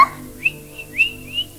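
A person whistles in imitation of a blackbird, giving three or four short rising, clear tones spaced across the moment, close and alone with no talk.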